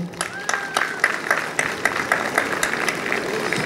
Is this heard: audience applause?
yes